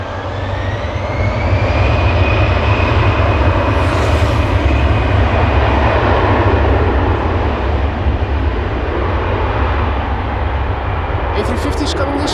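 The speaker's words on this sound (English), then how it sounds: "here is the A350 China Airlines coming this way" China Airlines Airbus A350 moving at Amsterdam Schiphol Airport, a loud steady jet engine roar with a rising whine, continuous throughout, with brief faint clicks near the end.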